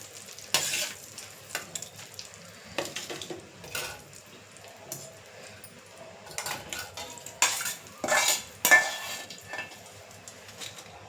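Gongura leaves lightly frying in a pan for chutney, a soft sizzle under repeated scraping and clinks of a spoon stirring against the pan in irregular bursts, close and moderately loud, with no voices.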